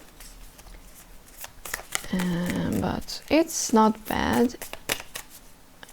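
Stiff new tarot cards are shuffled by hand, some sticking together in blocks, giving several bursts of papery riffling and slapping close by, with a person speaking briefly in between.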